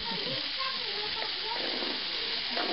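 Peppers sizzle and fry in a paella pan, a steady close hiss of hot oil with faint stirring for a few seconds.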